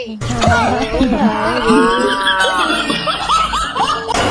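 A cow moos loudly and close, a long drawn-out bellow with wavering pitch, followed by a few shorter grunting calls.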